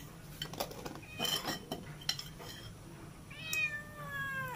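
A cat meows several times in a kitchen while chicken is being marinated with yogurt. Earlier there are soft clinks of dishes and cutlery, then a clear, fairly close run of drawn-out meows near the end.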